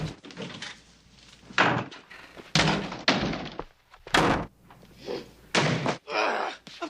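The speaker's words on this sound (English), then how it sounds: "the slamming doors" Heavy doors on a television detective-agency set slam shut again and again, with loud, sharp bangs in an irregular rhythm and brief quiet gaps between them.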